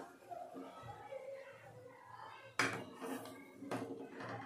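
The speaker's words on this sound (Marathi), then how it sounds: "आता त्यात एक ग्लास ठेवून घेऊया" A glass clinks against a metal pot of boiling water as it is set inside, with a sharp knock and a second clatter moments later over quiet background noise.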